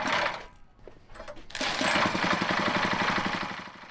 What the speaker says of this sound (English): now it's time to fire up the motor and make sure it works